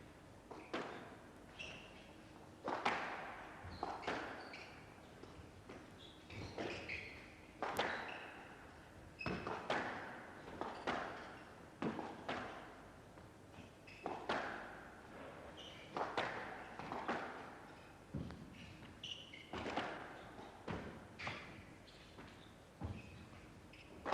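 Squash ball struck back and forth in a rally at the 1987 Men's World Open final, a run of sharp, hollow thwacks and wall thuds in irregular rhythm echoing around the court, with no talk.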